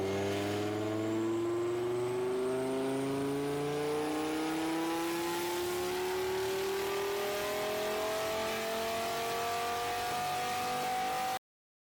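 Dodge Viper engine fitted with a new exhaust system and tune, revving hard in one long rising pull that climbs steadily in pitch, loud and close, with no talk over it.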